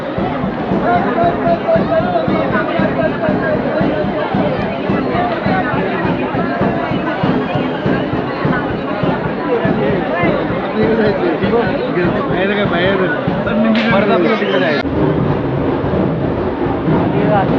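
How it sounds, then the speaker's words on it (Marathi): Dense festival crowd hubbub at the Mahad Chabina procession, a steady babble of many voices close around, with a nearby person talking throughout. "तो बघा तिकडे गर्दी"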